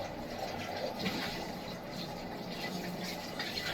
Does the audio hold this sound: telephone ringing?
no